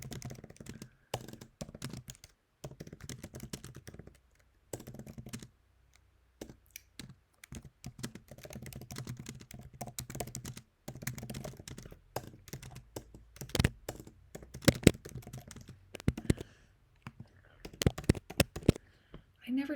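Typing on a computer keyboard, irregular bursts of soft clacking keystrokes with short pauses, moderately close, continuing through most of the stretch.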